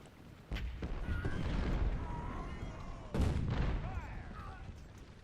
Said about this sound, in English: The artillery that you hear is actually my artillery hitting his guy